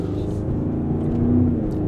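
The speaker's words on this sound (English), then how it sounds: "backfiring from the exhaust, and it's genuine noise" Engine of a 2025 Range Rover Sport SV, a 635 hp SUV, running with a loud steady rumble from inside the cabin, its exhaust note humming continuously without distinct pops standing out.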